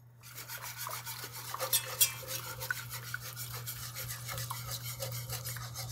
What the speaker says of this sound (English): I'm actually going to use a whisk for this.